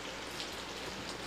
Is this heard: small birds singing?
no